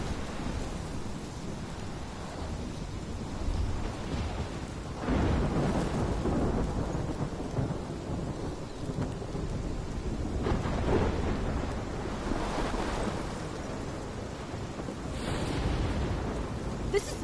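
A storm rolls on in Life is Strange, heavy rain hissing steadily while deep thunder rumbles swell and fade several times, loud and unbroken, no voices.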